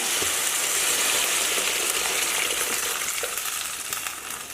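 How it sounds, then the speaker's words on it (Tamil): Tamarind water poured into a hot pan for onion sambar bursts into a loud, continuous sizzle and hiss that holds steady, then eases slightly toward the end. "ஒரு புளியை கொஞ்சம் கட்டி ஊற்றுறேன்."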